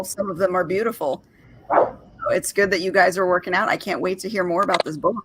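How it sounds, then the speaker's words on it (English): Dogs bark in the background at a home while a person talks steadily over them, the barks mostly buried beneath the nearby voice. "you guys can probably hear the dogs barking"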